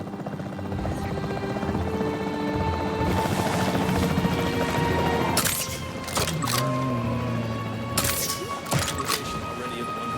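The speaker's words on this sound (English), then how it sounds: "The priority needs to be tranquilizing it with the capture team chopper." A capture team helicopter in the video game Jurassic World Evolution 3 drones steadily with a continuous rotor whir, joined by game effects and tonal music, with a few sharp bursts near the end.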